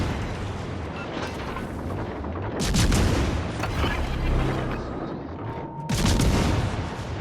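Warship main guns firing in a naval battle game aboard the Tiger 59, with heavy blasts at a few seconds' spacing over a constant low rumble of battle noise, loud and close.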